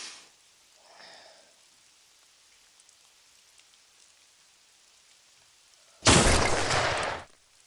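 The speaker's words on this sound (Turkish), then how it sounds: "Yağmur var komutanım." Mostly quiet, then a sudden loud burst of heavy rain hisses for about a second before cutting off.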